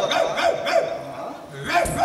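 A performer on a Yakshagana comedy stage imitates a dog with a voice, giving a rapid run of several barks, a pause, then a few more yips, loud and close.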